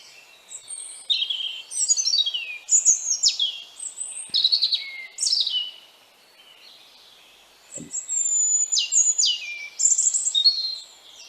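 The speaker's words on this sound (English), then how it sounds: "Robin is obviously higher, it's a higher pitch than Blackbird." European robin song from a played recording, a high, sweet run of thin warbling trills and chirping phrases repeated in bursts with short pauses, clear and fairly close, without any talk.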